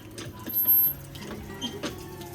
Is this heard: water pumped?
yes